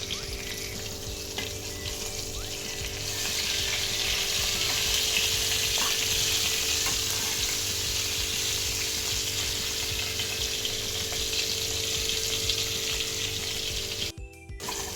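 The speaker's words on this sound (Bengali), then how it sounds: "তার জন্য রুই মাছগুলোকে নুন আর হলুদ দিয়ে মাখিয়ে তেলেতে ভেজে নিচ্ছি।" Rohu fish pieces coated in salt and turmeric fry in oil with a continuous, even hiss that swells slightly after a few seconds and then cuts out briefly near the end.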